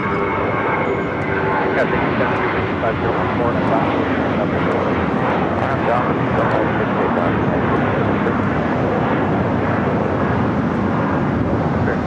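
A Spirit Airlines airliner at LAX gives a loud, steady broadband jet roar that holds close and constant for about twelve seconds, with faint voices mixed underneath.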